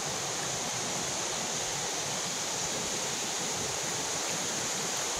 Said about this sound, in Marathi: इथून डोंगरातून पाण्याचा प्रवाह वाहत आहे